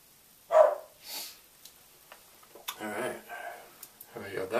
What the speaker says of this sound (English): Yeah, the dog's barking up a storm again.